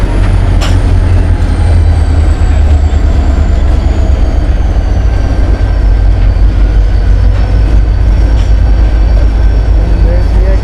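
A freight train led by an ex-Norfolk and Western locomotive rolls past at Coffey's Cliff, a loud, constant rumble of wheels and cars on rail with deep low-end drone and a faint high whine, close by and unbroken.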